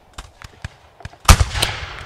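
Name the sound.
cannon fire in video game Rise of Liberty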